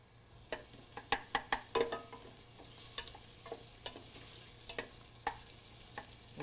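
Onion sautés in a pan with a low steady sizzle, punctuated by a quick series of utensil taps and scrapes, then sparser stirring knocks, close and without speech.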